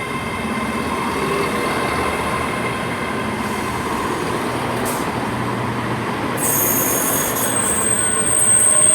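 A ScotRail Class 385 electric train departs Haymarket station with a loud, steady rumble of wheels on rails and faint squeals. A high-pitched whine rises near the end as it pulls away.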